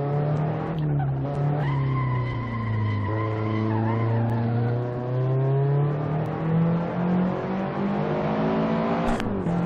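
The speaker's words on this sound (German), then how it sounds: "wieder stehe ich voll auf der Bremse und der zieht mir trotzdem bis hinten in die Wand durch" A race car in Assetto Corsa at Magione brakes hard and skids, the engine droning steadily while tires squeal in a long continuous screech with a shifting pitch, loud and close, ending in a sharp knock.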